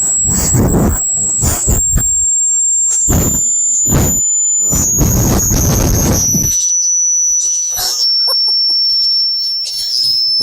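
Air rushing out of an inflatable paddleboard as it deflates, a sharp high squeal and whistle over bursts of hissing gusts, loud and close, fading to a thinner steady whistle.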